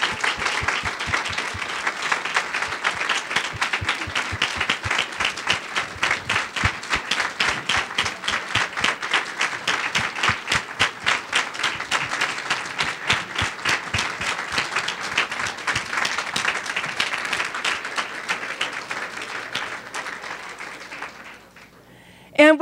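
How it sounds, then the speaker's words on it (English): An audience at a University of Arizona College of Nursing ceremony gives its honorees a sustained round of dense applause that stays steady for about twenty seconds, then thins and fades out near the end. "Let's give one last round of applause for our honorees."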